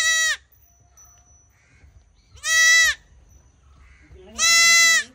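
Goats on a goat farm bleat three times, each call loud, close and about half a second long, separated by quiet pauses with faint background noise.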